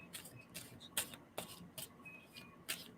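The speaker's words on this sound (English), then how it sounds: "And I'm going to stop shuffling." Tarot cards being shuffled by hand, a string of soft crisp riffles and slaps coming in short irregular bursts, close and fairly quiet.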